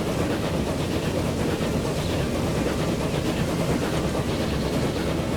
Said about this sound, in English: Oh, look, another train's coming in